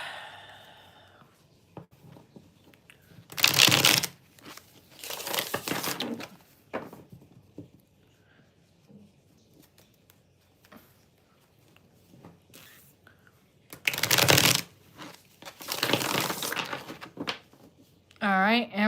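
Tarot cards riffle and shuffle close by in two loud rustling bursts with quieter handling between, and a voice speaks softly near the end.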